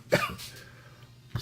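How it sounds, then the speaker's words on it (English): A single short cough bursts out near the start, loud and close, followed by a quieter throat sound at the end, with no talking. "still got a little bit of the cough"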